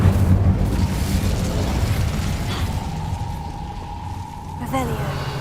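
An Incendio fire spell is cast in the Hogwarts Legacy video game, giving a loud, roaring rush of flame that lasts several seconds and ends in a brief crackle, with a voice speaking.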